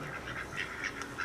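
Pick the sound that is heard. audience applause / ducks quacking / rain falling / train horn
ducks quacking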